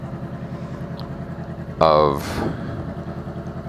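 A Harley motorcycle with a Coffman's exhaust and the baffle removed, revved inside a garage: a steady loud idle bursts into one sharp, roaring rev near the end, then settles back, with a voice speaking briefly.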